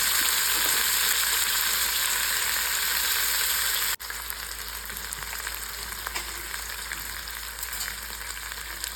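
Pieces of jackfruit seed fry in a pan, giving a loud, continuous hiss and crackle of hot oil with a sharp clatter partway through, then a steady sizzle under light stirring.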